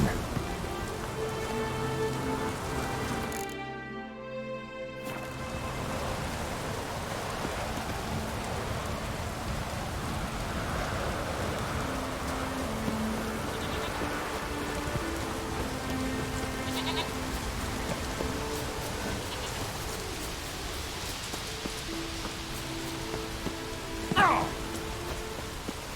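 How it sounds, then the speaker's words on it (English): Steady rain falls in The Witcher 3, a continuous soft hiss of drops on surfaces that fills the whole stretch, with game ambience and occasional faint animal bleats mixed in. "Looks like rain."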